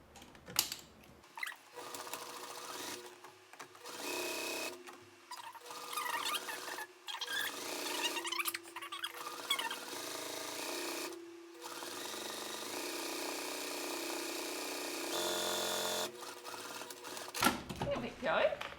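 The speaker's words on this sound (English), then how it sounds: "I'm going to make another line of stitches" A sewing machine stitches a line along a bag strap in repeated bursts of rapid mechanical whirring, separated by short pauses, close and fairly loud.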